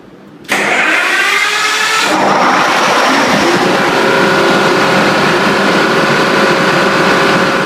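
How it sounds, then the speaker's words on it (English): A Detroit Diesel 12V92 twin-turbo V12 fires up after a short quiet moment, then settles into a loud, steady, raw running roar with a rising whine early on, close by and continuous. "That raw, powerful sound of the 12 V92 twin turbo."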